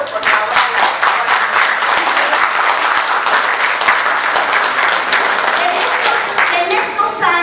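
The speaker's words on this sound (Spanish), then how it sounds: "un aplauso por favor a la doctora" Audience applause for Dr. Matamoros at a seminar in Mexico City, a dense, steady wash of many hands clapping throughout, loud and close, with a few individual claps standing out.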